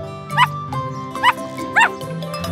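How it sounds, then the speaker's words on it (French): A cartoon puppy gives three short, sharp yips spaced apart over a steady musical background. "Le chiot aboie très fort"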